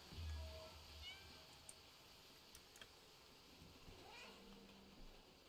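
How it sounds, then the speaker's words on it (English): A cat meowing in the video game Stray, a faint soft meow early on followed by quieter small ticks and a later brief mew, low and distant-sounding under a quiet background. "we're playing as a cat"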